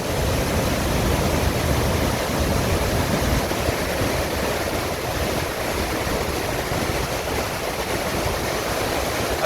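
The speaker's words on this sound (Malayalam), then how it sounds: "താഴത്തേക്ക് ഇങ്ങനെ പതഞ്ഞ് ഒഴുകിക്കൊണ്ടിരിക്കുകയാണ് താഴത്തേക്ക്" Vazhachal waterfall after the rainy season pours and foams downward in a dense, continuous roar of rushing water, loud and unbroken throughout.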